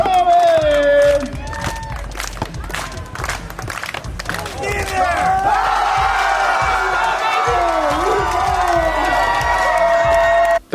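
A loud crowd cheers, whoops and yells continuously at a Toyota-sponsored giveaway event, with shouting voices and a drawn-out whistle-like tone rising over the sustained roar, which drops off abruptly at the very end.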